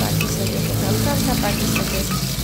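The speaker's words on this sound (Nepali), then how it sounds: "अनि आलु हालिदिनुहोस्। आलुलाई चाहिँ थोरै फ्राई गर्नुहोस्" Potatoes and dried chillies fry in a hot pan with oil, giving a loud, close, continuous sizzle with faint stirring scrapes.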